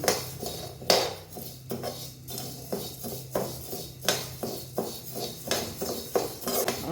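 A metal spoon scrapes and clinks against a pan while urad dal roasts for hotel-style kara pongal, giving a steady run of irregular knocks and scrapes up close, with no talking.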